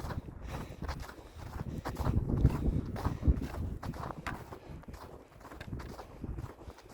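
Footsteps crunch through snow near a station, a steady walking rhythm of soft, close steps, fairly quiet with some wind, no talking.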